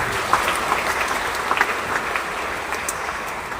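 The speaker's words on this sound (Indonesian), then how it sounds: "Tepuk tangan untuk mereka semua." A church congregation claps during a Mass at Stella Maris Pluit, soft and moderately dense applause with scattered sharper claps, heard at a distance and fading slightly toward the end.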